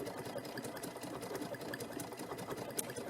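A sewing machine runs continuously while stitching appliqué along a line, a steady fast mechanical whir with a faint rhythmic knock, fairly quiet and close, with no voices.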